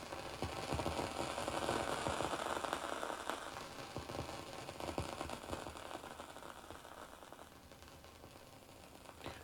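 Radio emissions recorded from Saturn's rings, rendered as dense, continuous static crackle with a busy clicking, ratchet-like texture, loud at first and easing slightly, with no voice present.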